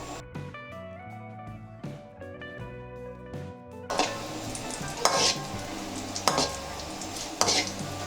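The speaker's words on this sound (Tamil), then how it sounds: "பாக்கியில் உருண்டையும் நம்ம எண்ணெயில் போட்டு பொரிச்சு எடுத்துக்கலாம்" Gulab jamun balls deep-frying in oil, a steady sizzle that swells louder partway through, with occasional clinks and scrapes of a utensil against the pan and no talking.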